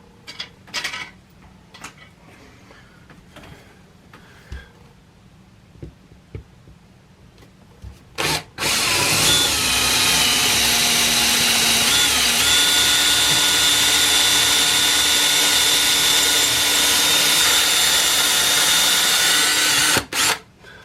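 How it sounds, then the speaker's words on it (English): After some quiet clicks and handling, a power drill whirs loudly and steadily for about twelve seconds, its pitch dipping as it bites into a wood wall stud, then stops. "We're gonna go ahead and drill new holes."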